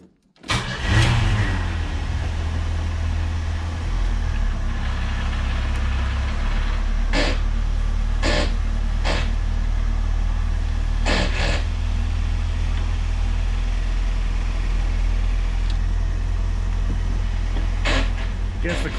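A 1987 Chevette on jack stands cranks and catches, then settles into a loud, steady idle close by, with a few sharp clacks and knocks over the running engine.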